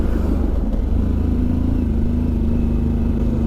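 A Harley-Davidson Pan America motorcycle engine drones steadily and loud up close, a continuous low rumble with a rising tone under acceleration, with no voices.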